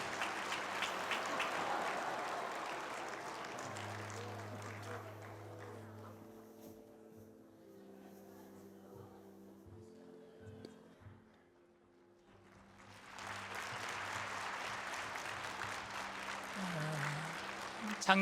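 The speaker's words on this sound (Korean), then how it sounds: "네, 큰 박수 부탁드리겠습니다." Church congregation applause at a New Year's Eve service opens and returns after a lull, soft and distant, while sustained organ-like tones hum underneath in the quieter middle.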